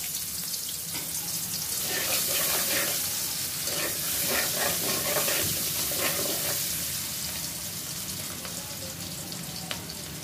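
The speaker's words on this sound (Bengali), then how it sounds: "মাছ ভাজা তেলেই দিয়ে দিব পেঁয়াজ" Onions fry in oil left over from frying small swamp barb (puti) fish for a mustard chochchori: a continuous close sizzle with scattered pops and crackles, steady in loudness throughout, no voices.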